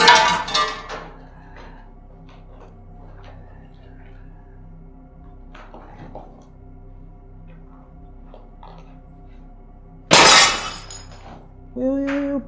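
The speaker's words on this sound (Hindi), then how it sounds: "उसके बाद ये कांच गिरा।" Glass falls and shatters inside a supposedly haunted house during a paranormal ghost-hunting show, with a loud crash at the start and another sharp burst of breaking glass near the end, amid quiet background noise.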